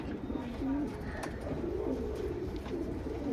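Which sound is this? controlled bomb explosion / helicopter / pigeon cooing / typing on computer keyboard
pigeon cooing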